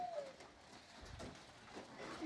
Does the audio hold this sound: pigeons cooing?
yes